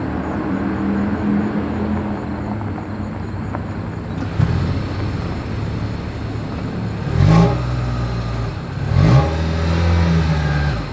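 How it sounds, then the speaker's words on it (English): Exhaust of a 2025 Toyota Crown hybrid sedan, a steady low engine drone with several brief revs swelling louder, recorded close with no talking. "here is that exhaust clip."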